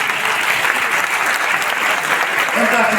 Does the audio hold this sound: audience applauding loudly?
yes